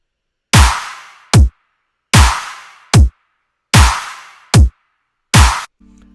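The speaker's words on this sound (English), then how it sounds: "And then I also have this kick clap pattern down here for the drop." A dubstep drop drum pattern plays alone, with booming kicks alternating with short, sharp claps in a slow, steady half-time rhythm, loud and close.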